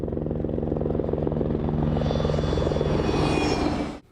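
An RFDS MediJet jet aircraft in the outback makes a sustained broadband engine roar with a low steady hum, and a rising whine builds toward the end before the sound drops away.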